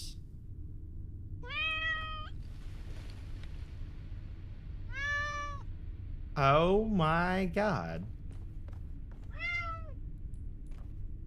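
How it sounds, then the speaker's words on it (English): A cat meows in the video game The Talos Principle: four separate meows, the third a longer, louder, wavering call, over a quiet game backdrop, with a person briefly exclaiming. "Where's the cat at?"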